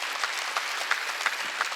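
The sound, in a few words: church congregation applauding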